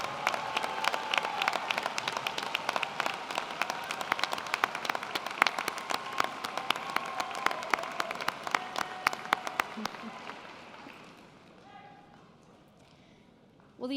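Audience at a fall commencement ceremony applauding graduates' friends and family: dense, steady crowd clapping for about ten seconds, then thinning out and fading to near quiet.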